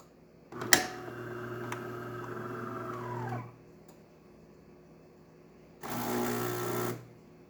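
A DeLonghi Magnifica espresso machine brews a two-ounce shot, its pump droning steadily for about three seconds after a sharp click, then running again in a second loud burst after a short quiet pause.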